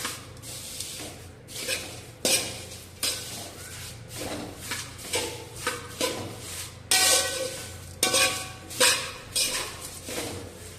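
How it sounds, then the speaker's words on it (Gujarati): Nylon poha chevdo tossed with chaat masala and jaljeera in a metal pan, giving repeated dry scraping and rattling strokes of spoon against vessel in uneven bursts, close and fairly loud with no talking. "હવે આમાં કરીશું મિક્સ ચાટ મસાલા અને જલજીરા"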